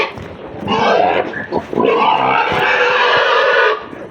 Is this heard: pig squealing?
yes